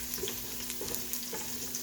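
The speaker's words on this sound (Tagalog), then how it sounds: "Gisa lang natin to ng ating garlic until brown." Garlic sautés in a pan for a dish of sardines with bottle gourd, making a faint, soft sizzle with small crackling pops scattered through a short stretch.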